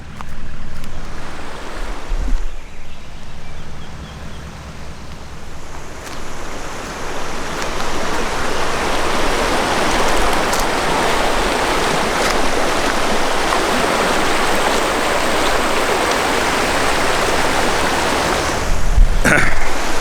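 The Mitta River flows past riverside campsites with swimming holes, a continuous loud rushing wash of moving water, with a few soft thumps and knocks near the start and end.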